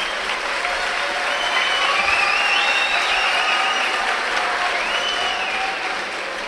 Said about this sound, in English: Crowd giving both fighters a round of applause there.